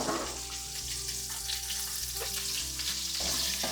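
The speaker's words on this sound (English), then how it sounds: "Honestly, I just want this like really quickly fried up." Asparagus ends frying in oil in a pan, a steady dense sizzle that holds loud and close throughout with no talk over it.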